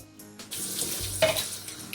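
Onion, garlic and ground meat fry in an oil-slicked pot while being stirred, giving a steady, close sizzle with scraping stir sounds and a brief louder burst midway.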